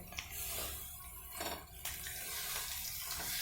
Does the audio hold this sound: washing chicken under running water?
yes